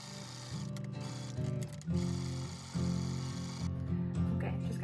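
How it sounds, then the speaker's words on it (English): Sewing machine running a straight stitch around a garment armhole, a close motor whir with rapid needle chatter in several short bursts separated by brief pauses. "So I'm just gonna straight stitch all the way around the armhole"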